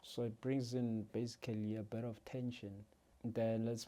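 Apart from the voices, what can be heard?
No everyday noises stand out.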